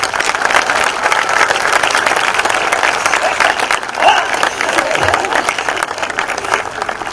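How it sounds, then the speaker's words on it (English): A large crowd of graduates applauds continuously at a high school commencement, a dense, steady roar of clapping with faint cheers mixed in. "Give yourselves a round of applause."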